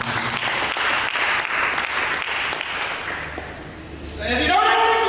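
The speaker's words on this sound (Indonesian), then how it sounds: "Berikan tepuk tangan dulu." Church congregation applause, a sustained wash of many hands clapping for several seconds, fading before a voice speaks loudly over the end.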